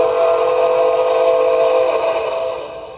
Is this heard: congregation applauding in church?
no